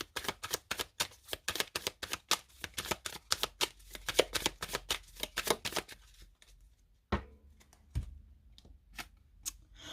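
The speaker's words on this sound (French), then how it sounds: "On va retirer une carte dessus pour voir." A deck of tarot cards is shuffled with a long run of rapid, crisp flicks close by. The shuffling then stops, and a few sparse snaps and slides follow as cards are drawn.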